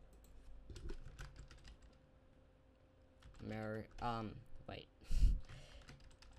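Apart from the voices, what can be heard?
typing on a computer keyboard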